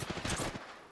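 A rapid burst of hip-fired gunshots in the Tomb Raider video game, loud and close, a quick rattle lasting about half a second before it fades.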